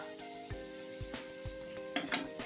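Mixed vegetables with peas, cashews and raisins fry in a covered pan, a soft steady sizzle with a few light knocks and clinks of utensils, no voices.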